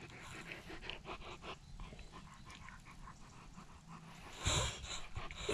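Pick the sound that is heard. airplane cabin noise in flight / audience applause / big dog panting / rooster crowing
big dog panting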